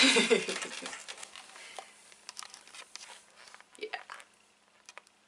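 Nerunerunerune candy mixture is stirred in a small tray, producing soft, sticky squishing and scraping taps that come in irregular bursts, fairly faint and close.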